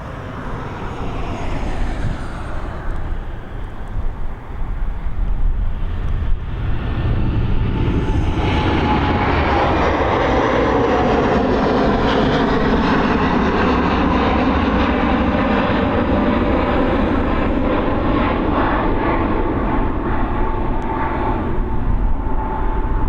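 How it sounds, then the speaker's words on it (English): An American Airlines Boeing 787 Dreamliner departs Dublin Airport, its jet engines building into a loud, sustained broadband roar that holds steady through the takeoff roll and climb, heard from nearby with no voices. "Dreamliner heading over to the home of the Fresh Prince. She's heading to Philly"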